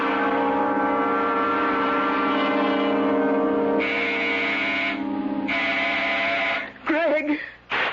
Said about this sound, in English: When Sandy pushes that door buzzer, listen to it carefully, Florence.